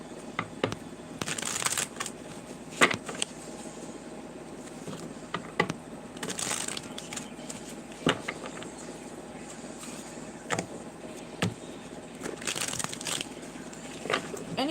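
Tarot cards being shuffled by hand, with bursts of riffling and sliding card noise recurring in an irregular rhythm, close and fairly quiet, with no talking.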